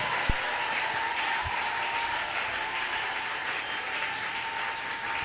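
A congregation at a prayer marathon service cheers and applauds steadily, a continuous wash of clapping with a faint sustained tone beneath it and a couple of low thumps early on.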